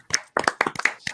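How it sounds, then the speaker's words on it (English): A handful of separate sharp claps from a small audience for an effects artist and filmmaker, sparse and irregular, close by and alone. "round of applause for Todd"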